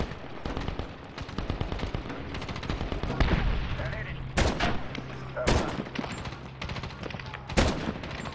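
Sniper rifle fire in the video game Medal of Honor, with loud sharp cracks spaced a second or so apart over steady background gunfire and battle noise, while someone talks underneath.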